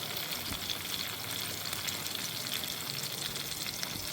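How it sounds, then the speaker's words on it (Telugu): Onions fry in a pan until golden for an Andhra-style pappu charu. A loud, steady, close sizzle and crackle runs unbroken throughout, with no voices. "బాగా గోల్డెన్ కలర్ వచ్చేంత వరకు ఫ్రై చేసుకుందామండి ఉల్లిగడ్డని."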